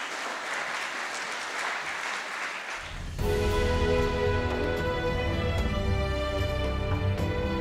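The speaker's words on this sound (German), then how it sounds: "Großen Applaus für die Iona" An audience at a school speech competition bursts into sustained applause after a quiet stretch, dense clapping from many hands continuing steadily to the end.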